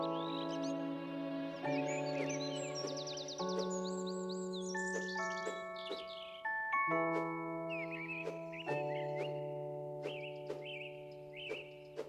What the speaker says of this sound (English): When the bird whistles, it means a quest item is nearby.